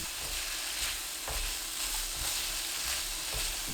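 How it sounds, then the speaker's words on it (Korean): Potatoes with green onion stir-frying in a pan, adding up to a steady hiss and sizzle with soft periodic scrapes of stirring throughout, close and alone without any voice. "파 넣고 30초 볶습니다."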